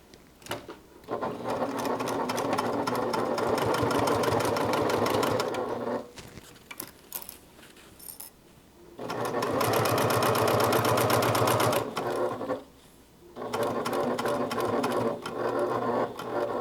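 A sewing machine stitches a fabric seam in three long, steady runs of rapid mechanical chatter, with short pauses between them and no talk.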